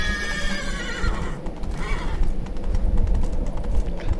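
Roach, a horse in the video game Witcher 3, lets out a loud whinny with falling pitch at the start, then hooves clip-clop steadily over a low rumble.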